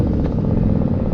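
A Yamaha V Star 1100 cruiser motorcycle being ridden, a loud, close, steady engine rumble with a low throbbing pulse and no voice.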